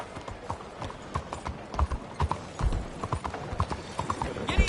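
Horse hooves clop at a quick, uneven gallop in the Red Dead Redemption 2 video game, rhythmic thuds close up over a soft background.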